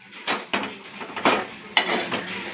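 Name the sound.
stirring tomato curry in a pan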